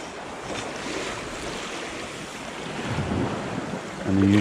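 Ocean waves wash onto a beach in a steady broadband rush, with wind buffeting the microphone and a brief low thump near the end; no one speaks.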